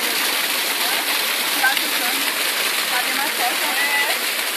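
Steady broadband rush of a waterfall at Brotas de Macaúbas, partly reduced by a pipe, constant and fairly close, with no pauses or variation throughout.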